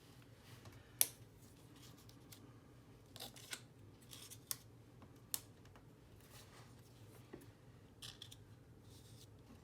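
Scissors snip through paper while a mixed media tag is being made: a few faint, scattered cuts over a quiet room background, with no talking.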